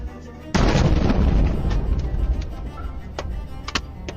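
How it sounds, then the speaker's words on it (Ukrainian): A sudden heavy missile blast booms in, followed by a rumbling decay and a few sharp cracks and pops, heard from a distance without speech, recorded on a car dashcam in Dnipro. "Обидва вибухи у Дніпрі потрапляють на відеореєстратор місцевого водія."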